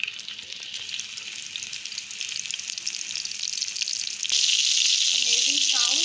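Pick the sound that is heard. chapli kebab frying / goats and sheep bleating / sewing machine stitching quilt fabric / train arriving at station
chapli kebab frying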